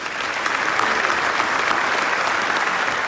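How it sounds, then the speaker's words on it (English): A crowd claps steadily and loudly at a police recognition ceremony, dense applause filling the whole moment without pause. "A round of applause, please, for Senator Dick Durbin and Tammy Duckworth"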